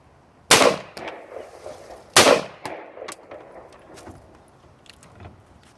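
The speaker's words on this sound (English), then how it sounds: "Take a couple more shots with this and we'll be done." Two loud, sharp gunshots about a second and a half apart ring out outdoors, fired at pumpkins from an AR-15, a .357 Magnum or a .40 S&W handgun, followed by fainter clicks and handling noises.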